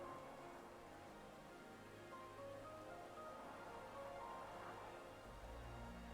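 Steady rain hiss in the Sonic Frontiers video game, a continuous soft wash of falling rain with faint tonal game sounds beneath, low in level and without voices.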